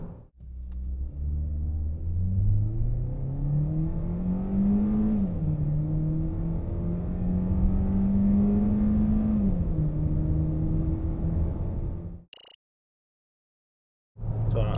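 Hyundai Sonata DH 2.0 car accelerating hard from a standstill, its engine droning loud and close as pitch rises steadily through a gear, dips at a shift and climbs again before cutting off abruptly.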